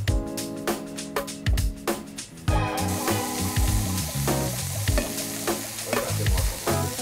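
Shrimp with ginger and preserved lemon searing in a pan, a bright steady sizzle broken by repeated scraping, clattering stirs and tosses, close and fairly loud.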